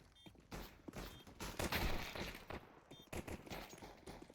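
Counter-Strike match gunfire, a rapid volley of close shots with mechanical clicks, ending in a headshot during a competitive league game, with no talking over it.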